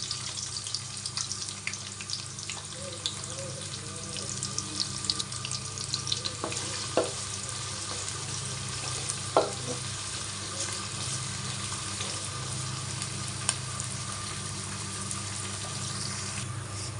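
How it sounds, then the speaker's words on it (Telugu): Chopped onions go into a pan of hot oil with cumin seeds already fried, giving a steady, continuous sizzle with occasional small pops and clinks, close by and alone. "జీలకర్ర వేగాక మనం తరుక్కున్న ఉల్లిపాయలు యాడ్ చేస్తున్నాం."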